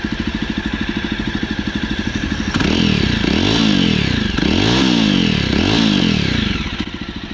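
Jawa Perak Bobber motorcycle with stock twin exhaust pipes, engine idling with a steady thumping pulse, then revved in several loud rising and falling bursts before settling back to idle, close by.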